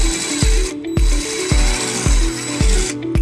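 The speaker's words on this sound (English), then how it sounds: "And then we'll drill the second hole." A power drill drills a hole in a bracket in repeated short bursts, about six pulses roughly half a second apart, each starting with a thump and a whine, loud and close, on a 2007 Toyota Highlander.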